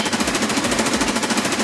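Fast automatic fire from an M4A1 rifle in Escape From Tarkov, a loud, evenly spaced stream of rapid shots rattling on without pause.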